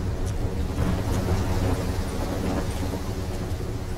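Heavy rain and rumbling thunder from a storm in the video game Call of Duty Black Ops 3, a dense, steady roar filling the whole clip with a few brighter cracks and no talk.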